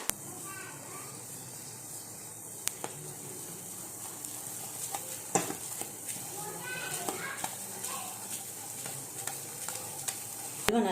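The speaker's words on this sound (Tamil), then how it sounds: "இதில் மெயின் நம்ம பண்ண வேண்டியது கிளறிட்டே இருக்க வேண்டியதுதான்" Moong dal halwa being stirred in ghee in a pan, soft scraping strokes and faint sizzling with occasional sharp clinks against the pan, fairly quiet and close.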